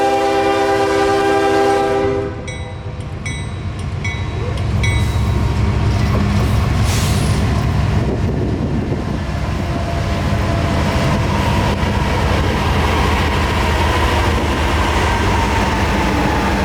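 A freight train led by three GE GEVO locomotives rumbles past close by at Yeoman, Florida. A locomotive horn blares at the start, then heavy wheel and engine noise continues steadily.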